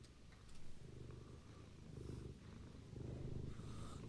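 A cat purrs steadily and close by, a low rhythmic rumble that swells with each breath, soft but continuous with no talking.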